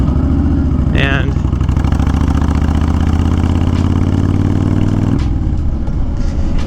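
A Honda Fury motorcycle engine idles close by in a steady, low, throbbing rumble that holds for several seconds before dropping away near the end, with a short higher burst of noise early on.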